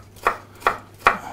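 A knife cuts potatoes into thin strips on a board, making three crisp, evenly spaced chops close by, with no voices.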